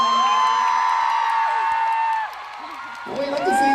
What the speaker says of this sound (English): congratulations, give her a round of applause.